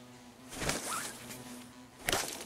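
Asian hornets buzz around beehives at a woodland apiary, their droning wingbeats rising and falling as they fly close past, with a couple of sharper bursts of nearby movement and no talking.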